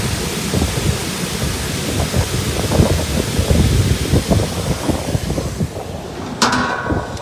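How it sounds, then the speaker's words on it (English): Water gushes from a pipeline at the Masama project: a constant, loud roaring rush with low rumbling surges and wind buffeting the microphone, ending with a brief clattering sound. "is the water coming from one of the pipelines"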